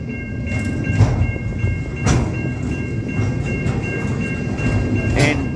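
A long freight train carrying containers rumbles steadily past close by in Australia, wheels clattering over rail joints in a continuous rolling roar.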